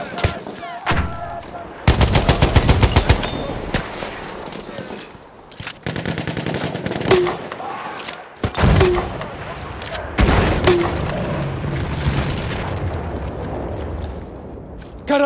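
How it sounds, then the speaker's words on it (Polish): Enemy machine gun fire in Battlefield 1 multiplayer Domination on the Saint Quentin Scar map, with loud bursts of rapid shots, single heavy reports and distant booms spread across the battlefield, and shouted voices between them. "Karabin maszynowy wroga!"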